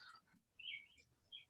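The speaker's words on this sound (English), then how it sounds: "It's Mockingbird. He's super mad at me. There's a nest." A mockingbird calls outdoors near its nest: a few short, bright chirps and tweets, faint and separated by brief gaps, with no talking.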